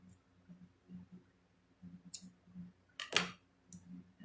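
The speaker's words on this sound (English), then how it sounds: "let me cut off my excess string here" Scissors trim excess string from a bow on a tobacco-basket craft, a few quiet crisp snips with one louder cut among faint low handling noises.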